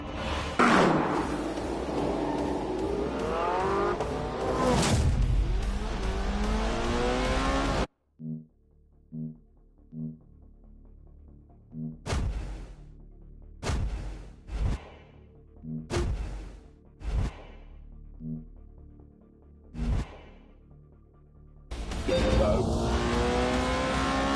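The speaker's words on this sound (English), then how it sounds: "Soon, the McLaren and the Porsche were ready for some shakedown laps." McLaren and Porsche sports cars on shakedown laps: a loud engine revving and rising in pitch close by, then after a cut a string of quick distant whooshes of cars passing, before a close engine roars again.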